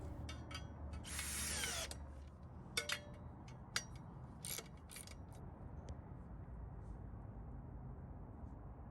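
A wrench tightens a 3/8 lock nut over stacked washers on a wooden swing set bolt, giving quiet bursts of ratcheting clicks early on, then a few isolated clicks against low background hum.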